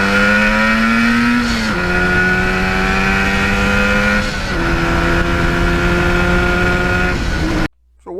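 A restored 1977 Yamaha RD400 motorcycle engine runs steadily and loud, its two-stroke tone stepping up through a few changes in pitch before cutting off abruptly near the end.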